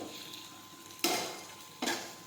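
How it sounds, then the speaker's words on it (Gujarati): Spices are mixed into okra curry in a pan, with two quick scraping stirs that rise out of a faint background hiss, close and moderately loud. "હવે આપણે બધા મસાલા છે તે મિક્સ કરી દઈશું"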